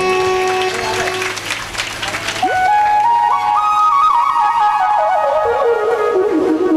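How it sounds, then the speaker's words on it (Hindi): Audience applause at a Hindu religious discourse, clapping that starts under a held musical tone before a rising and falling whistle-like melody takes over; the applause stays steady throughout. "इस बच्चे के लिए जोरदार तालियां।"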